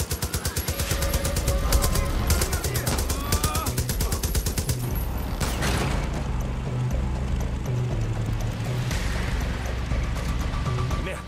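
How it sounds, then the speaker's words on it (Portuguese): Sustained rapid turret machine gun fire in the video game Far Cry New Dawn, dense and continuous over engine rumble and chaotic combat noise, loud throughout. "Vou tirar a gente daqui com a torreta."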